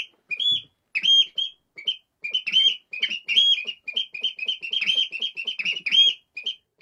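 A person imitates bird calls to lure migratory birds in the Somme, producing a series of short, high whistled chirps and trills in irregular bursts, fairly close and clear against a quiet background.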